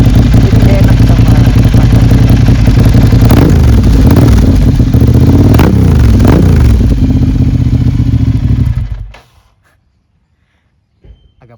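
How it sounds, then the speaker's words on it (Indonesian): A Ducati Hypermotard 796 idles loud and close in a residential complex, blipped a few times with short throttle rises, then cuts off abruptly to near silence, followed by a faint bump. "Gua agak ngegas dikit ya, ngegas dikit"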